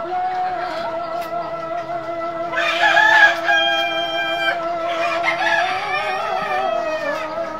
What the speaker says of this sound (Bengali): এই যে উপরে উঠছে মুরগি, দেখছেন?